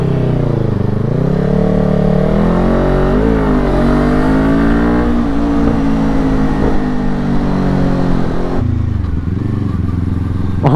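A Kawasaki-style R250 motorcycle fitted with an Akrapovic exhaust, revving loudly and close up, the engine pitch rising and falling through repeated throttle blips and ending in a rougher burble.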